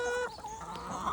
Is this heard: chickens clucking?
yes